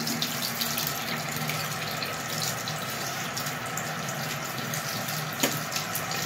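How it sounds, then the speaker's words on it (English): Water runs steadily from a bathroom sink tap while someone rinses their mouth after brushing their teeth, a continuous close hiss and splash with a small splatter near the end and no speech. "when I rinse my mouth after brushing my teeth"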